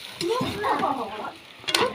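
Mixed vegetables frying and being stirred in a pan, with a soft sizzle under scraping and a voice talking over it, plus a short sharp clatter near the end.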